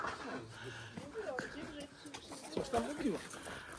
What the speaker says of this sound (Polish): Dobra, słuchajcie, siadły gołębie.